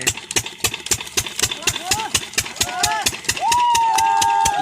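An old borewell pump engine in a field chugs with a fast, regular knocking beat, with whining tones rising over it and then settling into a steady hum.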